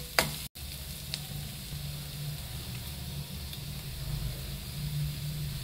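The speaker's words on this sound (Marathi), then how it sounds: "जिरे आणि लसूण थोडंसं तेलामध्ये परतून घ्यायचं आणि नंतर त्यामध्ये सुके मसाले ॲड करायचे" Garlic, cumin and dry spices frying in a little oil make a continuous, fairly quiet hiss and crackle, with a sharp knock near the start and otherwise an even sizzle throughout.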